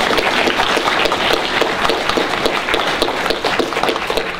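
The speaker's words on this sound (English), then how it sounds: "So I'd like a round of applause for them." Audience applause for election candidates at a public meeting on environment and children's needs: dense, steady clapping from a room full of people, loud and continuous throughout with no speech.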